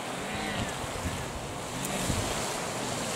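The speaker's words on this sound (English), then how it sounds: "There's quite a bit of movement on the water here, actually. I hadn't realised it has seemingly built a little bit. It is windy." Open water stirred up by strong wind makes a broad, steady rushing noise, with wind buffeting the microphone and faint wave wash throughout.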